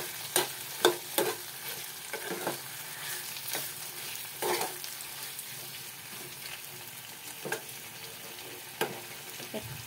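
Ingredients being mixed in a frying pan, with a steady sizzle under repeated scraping strokes of a spoon against the pan, some louder clusters near the start and scattered knocks later, close by and without speech.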